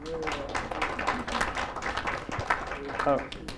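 Audience at a scientific talk on radioactive molecules for imaging and therapy clapping for the translators, scattered uneven hand claps mixed with voices and murmuring nearby.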